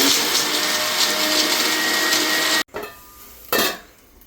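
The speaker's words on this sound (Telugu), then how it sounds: "ఒక 10 దాకా వెల్లుల్లి రెబ్బలు తీసుకున్నాను. ఇవి కొంచెం మిక్సీ పట్టేసేసుకున్నాక అప్పుడు కారం వేసుకుందాం." A kitchen mixer grinder whirring loudly as it grinds garlic cloves and coriander seeds, a dense, steady roar that cuts off abruptly, followed by a brief second burst that quickly fades, with no voices.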